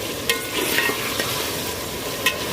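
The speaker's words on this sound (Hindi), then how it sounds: "मसाला हमारा अच्छी तरह फ्राई हो गया है" Spiced masala sizzles steadily in hot oil for okra (bhindi) fry as a spoon stirs through it, with a few sharp scraping clicks against the pan over a constant close frying hiss.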